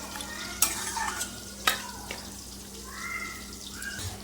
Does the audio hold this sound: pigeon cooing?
no